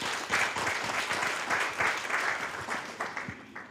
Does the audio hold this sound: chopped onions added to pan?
no